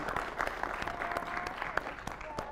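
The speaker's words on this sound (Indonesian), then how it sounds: "Tepuk tangan untuk Desi Ratnasari." Applause for Desi Ratnasari at a youth forum session on women in public spaces: a quiet, steady patter of clapping from an audience, with scattered sharper claps throughout and no talk over it.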